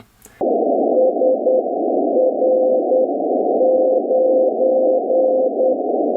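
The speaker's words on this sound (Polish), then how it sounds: "To jest beacon, dlatego że w kółko nadaje to samo." A steady radio hiss carries a faint keyed tone from a 432.440 MHz beacon beeping out Morse code, its dots and dashes repeating in an even pattern.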